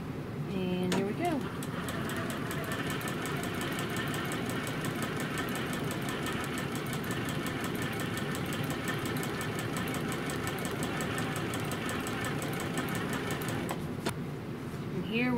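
A sewing machine chain-pieces quilt blocks with quarter-inch seams, running steadily and close for about fifteen seconds in a fast, even stitching rhythm. It stops briefly near the start and again near the end.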